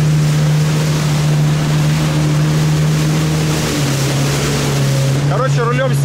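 A jet ski engine drones loud and steady, close up, as the craft skims sea waves around islands off Phuket, with spray and wind noise throughout and a few brief voices near the end.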